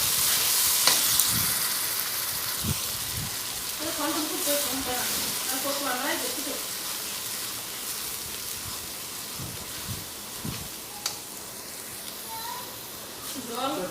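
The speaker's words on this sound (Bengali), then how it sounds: "তা মশলাটা আমি ঢেলে দেবো, ভালো করে কষিয়ে নেব।" Spices with salt, turmeric and dried chilli powder sizzle steadily in hot oil while being sautéed for a tilapia curry, a continuous frying hiss with occasional stirring scrapes and a voice talking over it.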